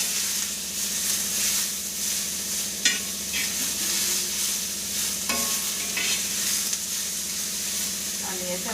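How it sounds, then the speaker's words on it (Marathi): Chopped tomato and onion sauté in a hot pan for misal, a loud steady sizzle with spatula scrapes and stirring strokes, close up, with no speech. "त्याला आपण छान असं परतून घेऊया."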